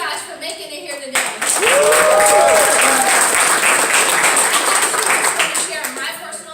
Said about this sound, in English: Let's give a hand clap for you guys for making it here today.